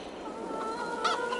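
Farm-game chickens in a crowded coop give a brief burst of clucking and squawking, close and fairly loud, with no talk over it.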